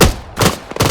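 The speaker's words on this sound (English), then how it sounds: "Shots!" Loud gunfire in the Arma 3 military game, three or four heavy, booming shots close together within a second, with no talk over them.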